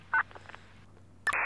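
Phone keypad tones sound while dialing for an ambulance in the GTA IV video game, two brief beeps separated by a short quiet gap, faint and close.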